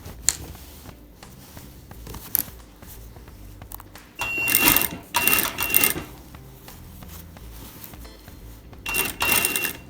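A sewing machine stitches an invisible zipper onto the back of a blouse. It runs in a few short, whirring bursts separated by quiet pauses, up close with no talking.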